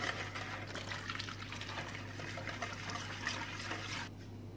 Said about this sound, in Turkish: Süt 2 su bardağı kullanacağız arkadaşlar. Bir tanesini ekledim. İkinciyi de ekleyip karıştırıyorum.